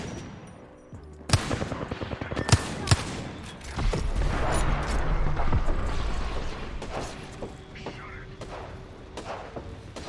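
Gunfire in the Apex Legends video game: sharp repeated shots and rapid automatic bursts, some close and loud, others more distant, with a voice talking over the fighting.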